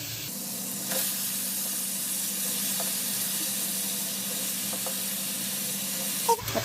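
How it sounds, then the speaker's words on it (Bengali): Washed water lily stems going into a pan of frying prawns, giving a steady loud sizzling hiss throughout with a few faint clinks, and no talking. "এইবার হচ্ছে আমি এই যে ধুয়ে রাখা শাপলাগুলো দিয়ে দিচ্ছি"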